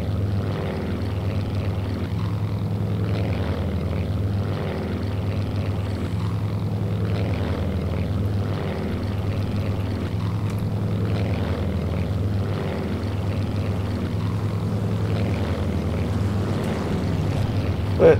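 Aircraft engine in the Strike Fighters 2: Vietnam video game, a steady, close, unbroken drone that holds at one throttle setting from start to finish.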